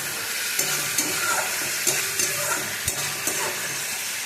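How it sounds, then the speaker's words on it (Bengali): Fish and potatoes stir-fried together in a pan give a steady, close sizzle, broken by a spatula scraping and tapping against the pan at irregular intervals, with no voices. "মাছটা দিয়ে একটু নাড়াচাড়া করলাম"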